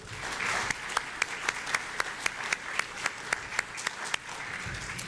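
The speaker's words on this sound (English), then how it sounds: "So a round of applause for Jasroop." Applause from the audience at a mayoral candidate dialogue for a civic election, a continuous wash of many hands with distinct sharper claps standing out at a fairly regular pace, moderately distant and alone without talk.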